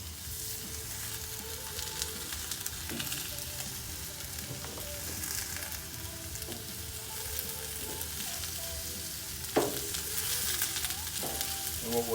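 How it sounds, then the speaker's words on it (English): Zucchini slices sizzle steadily on a 22-inch Blackstone griddle, a continuous close hiss of frying with occasional scrapes and taps of a spatula, no talking. "I'm gonna take our zucchini, start laying that on there."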